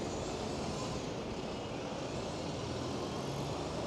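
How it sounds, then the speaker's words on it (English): An Airbus A400M Atlas military transport plane passes overhead on a Friday night along the Blackpool promenade, a steady broad engine roar that holds loud for the whole stretch. "That plane that just went flying across then was an A400 Atlas."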